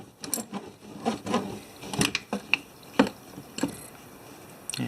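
Small metallic clicks and ratcheting ticks from tightening a fitting on a Honda Rancher 420 ATV fuel system, a quick irregular run of close taps and short scrapes with no talking.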